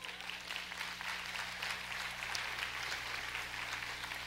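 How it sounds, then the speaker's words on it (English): Steady clapping from a church audience at a sermon, fairly faint and continuous over a low constant hum in the room. "Clap your hands."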